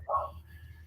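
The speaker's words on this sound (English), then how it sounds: "give me 1 second so I can shut this dog up" A dog gives one short, muffled bark indoors, a single brief yelp followed by quiet room hum.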